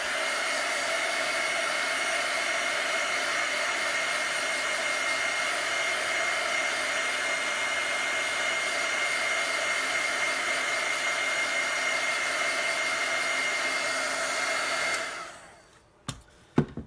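Hair dryer blowing on chalk paste runs as a loud, steady whir for about fifteen seconds, then cuts off, followed by a couple of faint clicks and handling noises.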